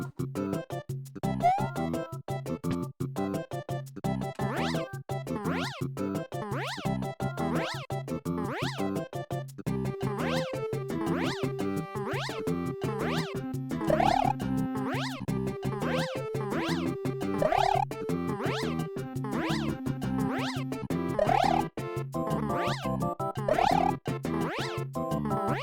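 Repeated cat meows heard in steady rhythmic succession, fairly clear and mid-distance, continuing across the whole stretch with a few louder calls.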